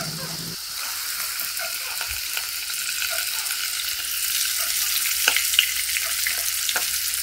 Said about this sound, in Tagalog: Ikot lang ng buo itong ating meya-meya tapos ay iprito natin.